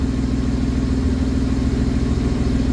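Honda Beat with an E07Z engine running hard on a dyno under boost, a loud steady mid-pitched engine drone with a buzzing rumble, continuous and close with no talk.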